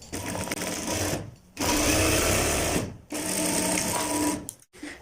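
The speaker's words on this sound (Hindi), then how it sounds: "अब ये 2 कुंदे हैं हमारे, इनको हम अच्छे तरीके से इधर से सिलाई लगा लेते हैं।" A sewing machine joining Patiyala salwar fabric panels, three loud close bursts of fast rhythmic motor whir and needle clatter, separated by brief silent pauses.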